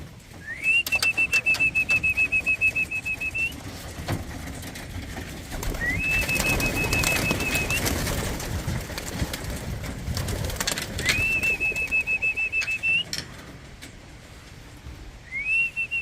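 Pigeons in a loft buffeted by strong hurricane winds: steady broadband gusts roar throughout while sustained whistling tones rise and hold in several separate stretches of two to three seconds each.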